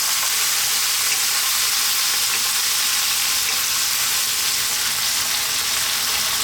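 Fresh ripe tomatoes hit a hot pan and sizzle loudly and steadily, a dense frying hiss that continues throughout with no talking.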